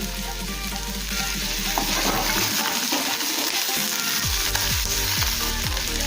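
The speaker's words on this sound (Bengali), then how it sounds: "পেঁয়াজটা এখন হালকা করে ভেজে নেব।" Sliced onions sizzle steadily in hot oil with green chillies and cashews, a dense, continuous frying hiss close by, with a few soft clinks and stirring scrapes partway through.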